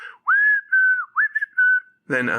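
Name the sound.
whistled film score melody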